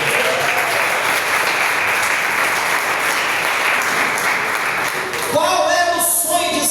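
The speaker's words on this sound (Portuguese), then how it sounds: "Vamos aplaudir o Senhor." A church congregation at a Tuesday worship service claps loudly and continuously for several seconds, a dense burst of applause that begins to thin near the end as a voice comes in.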